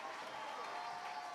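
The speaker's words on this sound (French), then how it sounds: "On applaudit plus fort, mesdames, messieurs." A church congregation at l'Église de Dieu de Delmas 17 gives a brief, steady burst of dense applause, faint and distant, with a murmur of the crowd mixed in.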